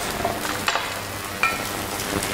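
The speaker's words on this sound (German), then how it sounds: "kommt auch hier eine geschnittene Zwiebel, etwas Frühlingszwiebel zum Anbraten in den Topf" Steady sizzling of onions and spring onions frying in a hot pot, a constant crackling hiss with a few brief louder pops and stirring sounds, no talking.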